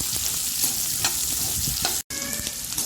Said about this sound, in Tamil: இது நல்லா ஃப்ரை பண்ணிவிட்டு அப்புறமா தக்காளி சேர்க்குறேன்.